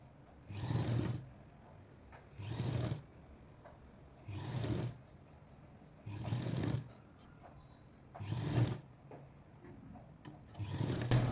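A sewing machine stitches along the folded edge of a round blouse neckline in six short, evenly spaced runs, each lasting under a second with quiet pauses between, close by and with no talk.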